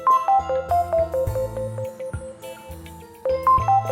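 A mobile phone ringtone announces an incoming call, a bright repeating melodic jingle of quick electronic notes over a bouncy beat, loud and alone.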